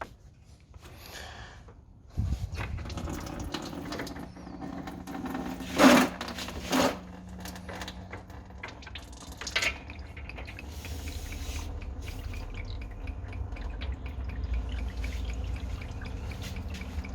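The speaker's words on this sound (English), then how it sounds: "Just undo that, dump the coolant." Coolant drains from the bottom drain cock of a Ford Falcon BF F6 radiator, a steady liquid splashing and trickling that runs throughout, with a few louder clunks and knocks partway through and no talk.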